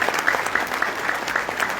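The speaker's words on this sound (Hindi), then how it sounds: "मैं चाहूंगा उनके लिए जोरदार ताली आप सबकी तरफ से देना चाहिए" An audience at a devotional gathering claps loudly and steadily, a dense rhythmic patter of many hands with some distinct sharp claps standing out, heard up close throughout the short stretch.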